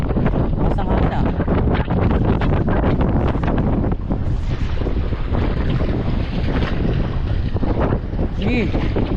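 Strong typhoon wind roars and buffets loudly and steadily against the microphone, with rushing water mixed in and a faint voice at times.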